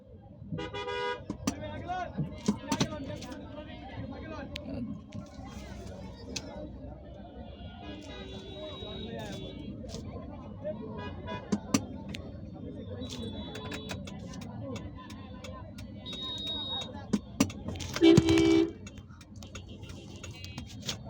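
Dense Dhaka street traffic rumbles throughout, with several short car horn toots and beeps scattered across it and one louder honk near the end, while someone talks over the din.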